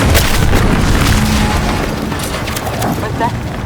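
A loud, dense explosion from The Outer Worlds 2 fills the start with a broad rumbling boom, which then settles into a sustained roar of debris and crackle, with speech mixed in.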